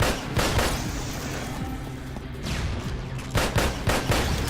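Colt pistol fire in the Hunt Down the Freeman video game, heard as several loud, sharp bursts with gaps between them over a rumbling game background.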